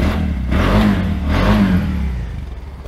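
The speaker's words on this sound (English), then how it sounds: "you can hear the engine has fired into life" A one-cylinder engine on a three-wheeler runs close by, a steady low throbbing chug that swells twice as it is revved, then settles back toward idle.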